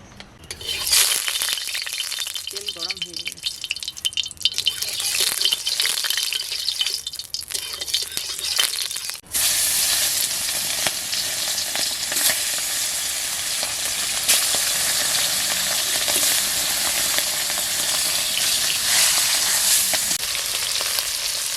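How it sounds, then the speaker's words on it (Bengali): Bata fish fries in oil in a wok, seasoned with salt and turmeric, with an uneven sizzle and spatter at first, then a sudden, louder, dense hiss that continues steadily for over ten seconds. "এবার কড়াই তেল দিয়ে মাছটাকে ভেজে নেবো"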